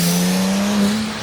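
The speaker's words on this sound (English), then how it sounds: "the car is running, it's driving" A rebuilt Porsche 997 911 Turbo engine running while the car drives, a loud steady drone that swells briefly, heard close with no talk.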